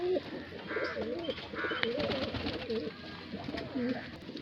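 Pigeons coo softly and repeatedly at a loft in Bareilly, several overlapping low rolling calls close by over a quiet background, with a few faint higher chirps.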